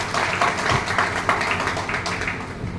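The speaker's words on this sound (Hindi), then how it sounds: "लेकिन एक बार ज़बरदस्त क्लैपिंग" Audience at a motivational achievers' event in Haridwar claps together in steady, sustained applause that fills the whole stretch at even loudness, with no talk over it.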